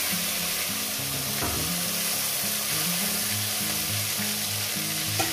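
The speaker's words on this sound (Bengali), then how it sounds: "এই মাছগুলো এখানে ভেজে নিচ্ছি" Fish frying in a pan of oil, a constant, even sizzle at moderate level with a low background hum, no talking and only a faint tap or two.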